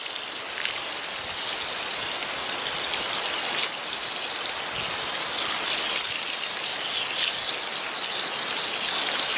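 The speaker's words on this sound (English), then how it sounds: "we go ahead and we add some water so that we can get our water down" Water pours and splashes continuously into the soil of a planting hole for a hybrid tea rose, a steady rushing gush with slight surges.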